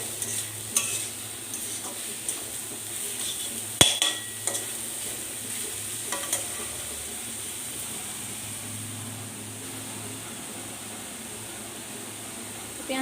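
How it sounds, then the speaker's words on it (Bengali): Chopped onion frying in oil in a pan for rajma, stirred now and then with a few sharp scrapes early on, over a steady low sizzle that continues alone without talk. "পেঁয়াজ কুচিটা দিয়ে এইভাবে একটু ভাজা ভাজা করতে হবে।"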